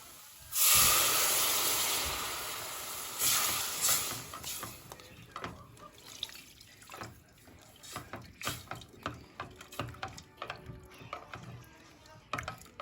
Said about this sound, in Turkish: şimdi hazırlamış olduğum soğuk suyumu ekliyorum